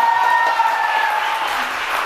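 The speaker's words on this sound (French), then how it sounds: "On applaudit Grace" An audience applauds at a youth leadership event, a short burst of steady, moderately loud clapping heard alone without talk.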